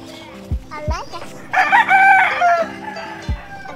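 A rooster on a farm crows loudly and close, one long cock-a-doodle-doo in the middle, framed by short clucks and thuds around the pen.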